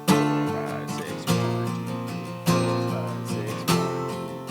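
Strummed guitar plays the verse of a song, four evenly spaced chord strikes each left to ring and decay, clear and close with no voice over it.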